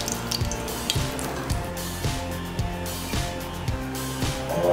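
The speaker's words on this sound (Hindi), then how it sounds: "कढ़ाई जिसमें हम डाल लेंगे तेल, ये तेज पत्ता कढ़ाई में" A bay leaf sizzles in hot oil in a kadai while Punjabi chhole is being made, giving a soft, steady crackling fry with faint popping throughout.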